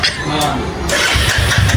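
A new motorcycle's engine starts up close by, a rough churning crank that catches and settles into a running rumble, with voices nearby.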